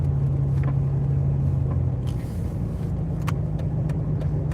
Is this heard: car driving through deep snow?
yes